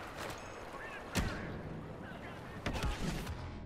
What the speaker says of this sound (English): I got double kill with the nade